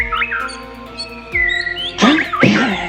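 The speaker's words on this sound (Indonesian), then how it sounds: "Itu bunyi burung, Bu." Birds chirping in an animated Indonesian story scene, bright rising and falling tweets repeating through the clip, with a louder squawk-like burst of calls near the end.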